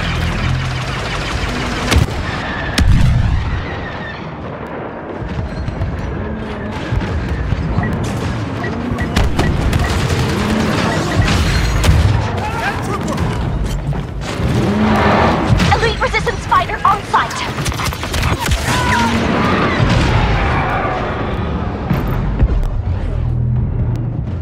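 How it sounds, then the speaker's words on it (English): Artillery fire and explosions in a Star Wars Battlefront battle, with booming blasts, vehicle roars and gunfire layered densely throughout, loud and continuous. "Artillery, fire away."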